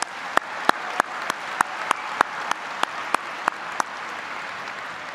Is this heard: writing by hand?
no